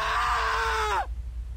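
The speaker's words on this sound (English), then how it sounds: "I think I had death sounds. No wonder why I heard screaming." Player death scream from the Roblox potato obby game, a single sustained shrill cry that bends downward and cuts off abruptly, leaving quiet background.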